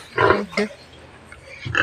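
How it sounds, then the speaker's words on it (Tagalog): Pigs grunt and snort while being fed, two close bursts of rough grunting at the start and another at the end, with quiet between. "tapos na tayo nagpapakain ng baboy"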